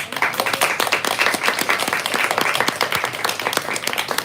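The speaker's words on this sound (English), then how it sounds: "Let's give her one more round of applause." An audience claps at a poetry reading in a store, a dense, lively round of applause that keeps up evenly and close by.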